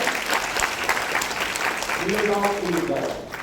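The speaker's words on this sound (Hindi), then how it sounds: "मैं चाहूंगा इनके लिए एक बार जोरदार तालियां।" Large seminar crowd clapping loudly for high-earning members at a business gathering, a sustained thick roar of applause with some cheering or voices rising partway through.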